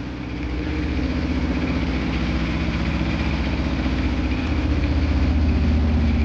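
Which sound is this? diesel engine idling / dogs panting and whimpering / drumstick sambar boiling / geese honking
diesel engine idling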